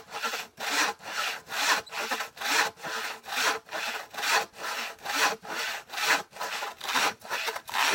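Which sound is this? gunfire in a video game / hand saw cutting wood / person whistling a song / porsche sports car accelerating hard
hand saw cutting wood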